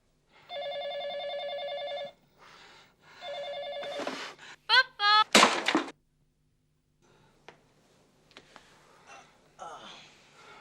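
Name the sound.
telephone ringing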